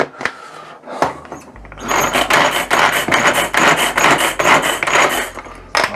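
A small hand-cranked chopper cuts dried trumpet of death mushrooms, giving dense, steady scraping and rasping clatter near and loud after a few sharp knocks at the start.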